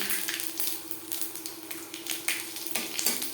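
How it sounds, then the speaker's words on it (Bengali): A bay leaf and panch phoron temper in hot oil left over from frying fish, giving a soft, steady sizzle with faint crackling and a few small utensil clinks nearby. "মাছ ভেজে নেওয়া তেলে ফোড়নে দিয়ে দেব একটা তেজপাতা পাঁচ ফোড়ন"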